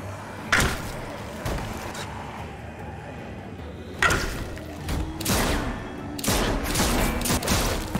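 Gunfire in The Walking Dead game, two or three sharp loud bursts spread apart over a low rumbling backdrop, with thuds between them.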